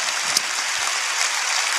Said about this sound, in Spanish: Dale un fuerte aplauso a la gente que nos ve en casa.